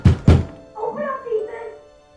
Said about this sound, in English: Banging on the front door interrupts the fun.